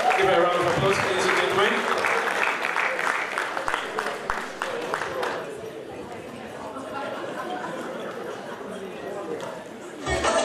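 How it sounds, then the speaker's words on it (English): Audience applause at a convention evening event, strong clapping that fades after a few seconds into crowd chatter and some laughter, with brief talk near the end. "Give her a round of applause, please."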